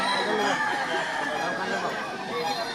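Gamecock roosters crow at a busy market for fighting cocks in Lipa, Batangas, their calls drawn out beneath constant crowd chatter and people talking nearby.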